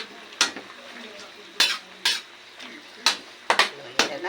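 A utensil stirs radish, carrots and red pepper in a pan, scraping in sharp, irregular strokes about seven times over a soft sizzle.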